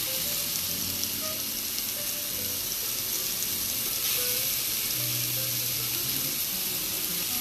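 Meat sizzles steadily in melting butter in a pan, a dense, continuous frying hiss at close range with small pops throughout and no voices.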